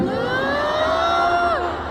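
Stadium concert crowd in Bangkok at a K-pop show, screaming and cheering in a loud, sustained wash of high-pitched voices with rising and falling shrieks throughout.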